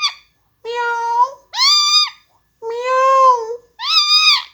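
A pet parrot imitates a cat's meow, giving five loud, drawn-out meowing calls with short gaps between them, close and clear against silence.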